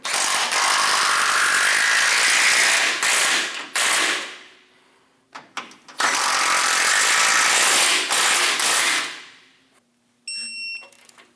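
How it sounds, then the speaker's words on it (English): Power tool snugging down nuts on a Chevrolet Express 2500 front pitman arm, two long loud whirring runs that each taper off, separated by short sharp bursts and brief pauses, then a quick final burst with a faint ringing tone. "Snug the nuts down."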